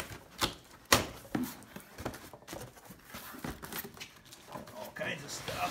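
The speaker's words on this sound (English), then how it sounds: "let's get through some packing tape here" Packing tape gets pulled and torn off a cardboard box, giving irregular ripping and crackling bursts with thumps and rustles, while someone talks close by.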